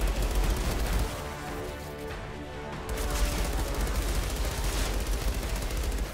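Rapid bursts of gunfire in the video game Outriders Worldslayer, dense and continuous with a brief lull in the middle, loud and close with no voices over it.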